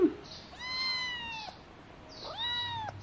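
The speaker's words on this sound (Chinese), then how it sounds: "这个猫我捉回来三天了，这是第三天。" A domestic cat meows twice, two clear drawn-out calls close by in a quiet room, separated by a short pause.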